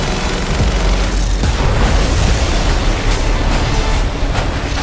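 A helicopter is destroyed in a rigged explosion for an action film trailer, a loud, dense boom with roaring debris and rumbling that fills the whole stretch without pause.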